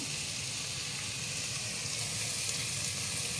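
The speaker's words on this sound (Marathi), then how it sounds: "कांद्याची पात घालते मी" Spring onion greens dropped into spiced pea rice frying in a pan, giving a steady, close, even sizzle and crackle that holds at one level throughout with no voices.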